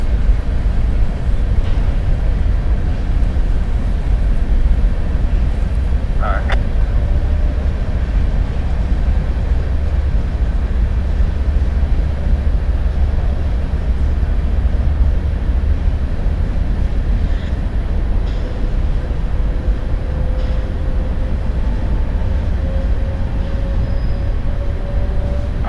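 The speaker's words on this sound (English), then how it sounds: "CSX going north." A CSX freight train rolls past northbound at trackside, a constant loud low rumble throughout with faint intermittent squeals and tones above it.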